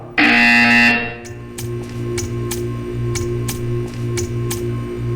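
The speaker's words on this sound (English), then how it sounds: "When you hear the buzzer, stare at the art." A loud, sustained buzzer tone from the video game Portal sounds for about a second, followed by a quieter repeated ticking pattern.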